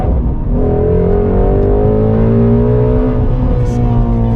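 A Shelby GT350's V8 engine revs hard and loud, its pitch climbing steadily as it accelerates in a sustained, close-up roar.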